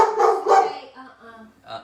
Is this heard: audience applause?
no